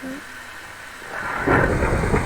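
Steady rainfall from a Minecraft game hisses throughout, with a low rumble of thunder swelling in the second half, no talk over it.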